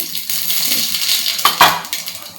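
Mustard seeds and cumin tipped into hot oil in a pan, giving metallic clinks and a brief crackling spatter midway, close and fairly loud, with no talking.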